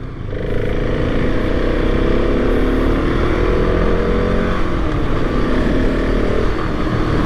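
A 2023 KTM 690 SMC R single-cylinder supermoto rides along, its loud engine rising steadily in pitch as it pulls away and accelerates, heard up close over rushing wind noise.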